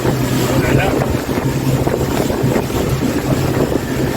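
Motorboat ride on the sea off San Andrés, a steady broadband rush of engine drone, hull slap and wind buffeting the microphone, continuous and loud throughout.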